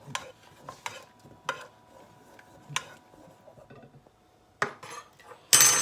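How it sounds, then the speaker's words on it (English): A utensil stirring gelatine in a pan over low heat, with intermittent scrapes and light metallic clinks against the pan spaced a second or so apart, close and quiet. "warm over a low heat, stirring continuously until the gelatine is dissolved"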